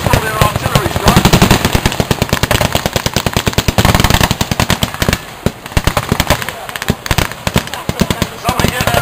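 Blank-fire gunfire at a Vietnam battle reenactment show, loud rapid bursts of machine-gun fire in dense rattling volleys from nearby, with a voice calling out over the shooting.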